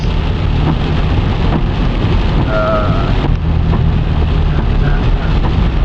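Loud, steady downpour of heavy rain in the RGV drumming without pause, with a low rumble underneath and a brief faint tone partway through.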